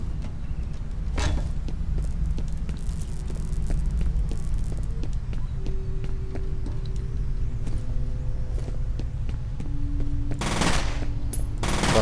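Sporadic gunfire in the first-person shooter F.E.A.R., with sharp bursts near the start and a denser volley late, over a steady low game hum and ambient drone.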